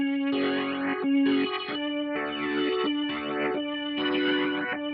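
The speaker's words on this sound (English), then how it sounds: "any Ghost song wouldn't be complete without some spooky organs." Spooky organ for a Ghost-style song plays sustained chords in a slow rhythmic series of swelling blocks, heavily processed with chorus-like shimmer and reverb, alone and fairly loud.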